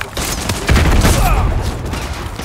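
Gunfire in Call of Duty: Modern Warfare 2 Remastered, during the No Russian mission: a dense fusillade of overlapping shots that swells loudly from about midway and continues as steady, close automatic firing.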